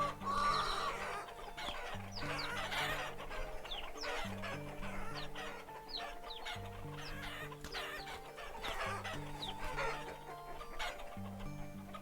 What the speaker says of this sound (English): My chickens are also happy.